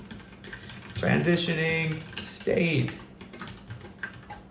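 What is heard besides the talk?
typing on a computer keyboard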